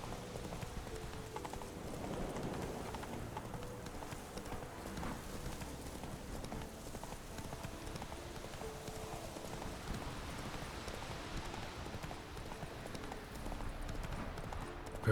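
Hooves of Geralt's horse Roach clip-clop in a steady rhythm across The Witcher 3's game world, moderately loud, under rain-like ambient patter with no talking.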